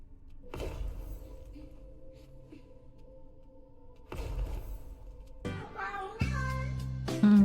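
A cat meows in a series of short, clear calls that grow louder and more frequent toward the end, with brief quiet gaps between bursts.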